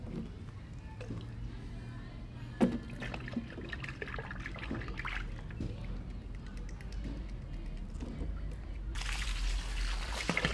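Water pours and trickles without a nozzle while a Miata is washed, a steady running flow that grows louder and hissier near the end, with talk over much of it.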